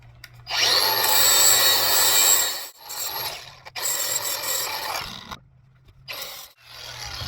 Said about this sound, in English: But I got to clean up this metal now with a grinder so I can weld to it.